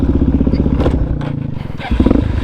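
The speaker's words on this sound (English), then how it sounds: "Shut off my bike real quick," A motorcycle engine idles loudly and close with a fast, throbbing pulse, dipping briefly in the middle before the rumble resumes, with rattling clatter over the top.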